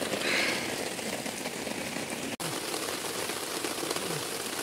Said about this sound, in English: Look guys, it's raining so we stopped working.